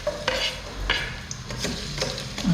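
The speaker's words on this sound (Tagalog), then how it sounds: "Yan, gigisa na po tayo. Natin sibuyas." Onions stir-frying in a hot pan with garlic and chili for adobong gabi, a steady close sizzle broken by several scraping stirs of a utensil, with no talk.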